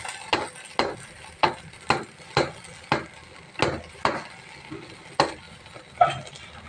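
Rice with moong dal and boiled potato is stirred in a pan for khichuri. About nine crisp, evenly spaced scraping strokes sound close up, each followed by a soft sizzle. No one talks.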